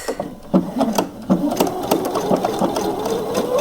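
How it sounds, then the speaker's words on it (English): A sewing machine stitches two blouse yokes and the back together in one pass, with a rapid, steady clatter of needle strokes running throughout. "I'm going to stitch all this in one time, the 2 yokes and the back"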